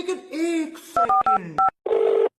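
A telephone number is dialed as a quick run of separate touch-tone beeps with short gaps between them, mixed in with a few other electronic tones.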